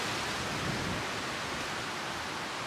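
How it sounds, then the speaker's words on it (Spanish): Strong wind at a lookout point roars in a steady, broad rush close to the microphone, a constant buffeting with no voices. "El viento está bastante fuerte"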